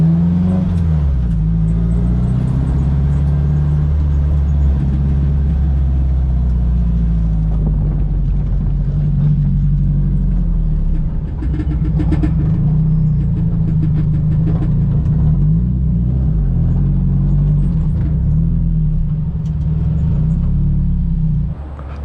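Car interior on a night drive home, steady engine drone and road rumble holding at a constant loudness for the whole stretch, with gear-related pitch shifts and no talking.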